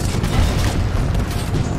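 Rocket explosions from the Titanfall 2 video game: a loud, dense rumbling blast that fills the short moment with heavy low-end booms running into one another.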